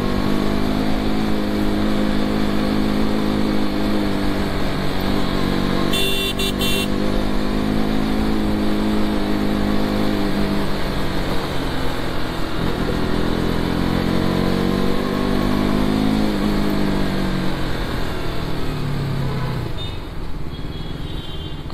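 A car engine runs steadily as it pulls out onto a Mumbai road, a loud continuous drone that rises and falls slightly with speed, with no talking over it.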